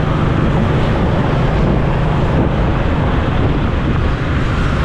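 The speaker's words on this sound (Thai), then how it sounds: "ก็จะได้ยินเสียงลมพัด" Hot, dry wind blows along a road on the outskirts of Vientiane, Laos, as a loud, steady broadband roar that continues without a break and with no voices.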